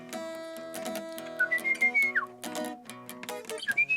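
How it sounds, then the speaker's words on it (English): Whistles used to communicate between people in a township: a run of sharp, clear whistled notes, some sliding and some short and clipped, heard close and alone. "Where people communicate through whistles."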